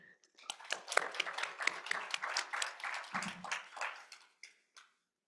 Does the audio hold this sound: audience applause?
yes